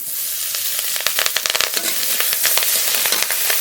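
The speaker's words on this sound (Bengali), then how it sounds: "রসুনটা একটু ভাজা ভাজা করে নিয়েছি চেরা কাঁচা লঙ্কা দেবো" Garlic and slit green chillies spit and crackle in hot oil tempered with radhuni. The popping is dense and rapid, close and fairly loud, with no voices.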